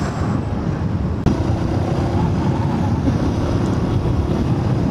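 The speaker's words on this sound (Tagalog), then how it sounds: "Sarap ng hangin." Strong wind buffets the microphone while riding a Monarch Axis 125 motorcycle along a rural road near a dam in Naic, Cavite, a loud constant rush with a brief sharp bump partway through.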